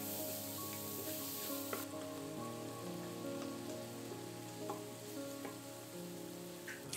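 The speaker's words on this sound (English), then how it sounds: "Now we're sauteing the aromatic and flavor-infusing ingredients. Add in the diced onions, then saute them for 3 minutes." Diced onions sauté in an Instant Pot with a soft, continuous crackle like light rain, running evenly under steady background music.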